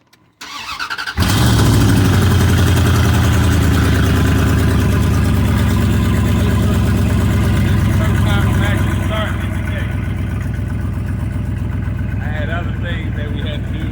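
A 2002 Dodge RAM 1500 with the 5.9L engine and no exhaust fitted cranks briefly, fires up and settles into a loud, rough, throaty idle that eases a little after several seconds.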